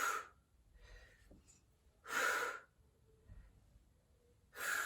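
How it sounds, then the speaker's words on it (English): Heavy, audible breaths during knee push-ups in a prenatal workout, with three strong broadband exhalations at regular intervals and quieter breathing between them, close and without speech. "Breathing through each of these."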